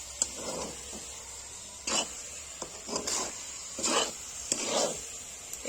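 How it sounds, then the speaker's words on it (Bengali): A sweet cardamom-flavoured filling for dudh puli is stirred in a pan as its water cooks off, giving faint, unhurried scraping strokes that come every second or so over a quiet background. "দিয়ে এবার কন্টিনিউ এভাবে নেড়ে পুরটাকে রেডি করব"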